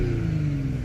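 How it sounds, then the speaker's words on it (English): An Audi S5 engine gives a brief rev, a loud close rising exhaust rumble held for under a second. "So a little rev."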